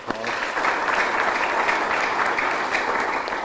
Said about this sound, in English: give you a hand of applause